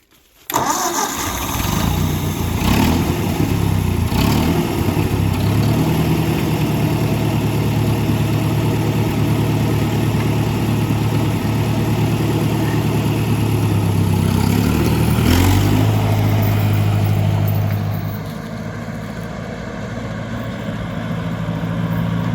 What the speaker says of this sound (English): Let's get on the tractor here and see if we can get down there and get a log.